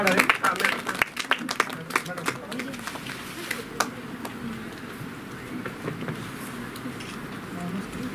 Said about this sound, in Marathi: माननीय अशोक नगरकर साहेबांचं टाळ्या वाजवून सहर्ष स्वागत करतो